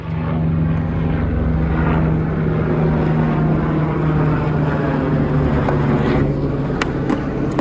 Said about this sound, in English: We're gonna wait for the helicopter to come down.